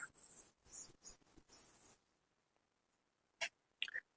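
Pen or pencil writing by hand while working math examples, several close scratchy strokes in quick succession, then a pause and two short final marks.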